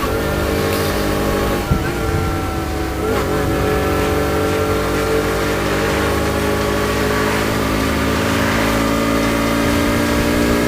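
A Romet Pony 50 moped's small engine drones continuously while being ridden, steady and close, with wind rush and slight shifts in revs throughout.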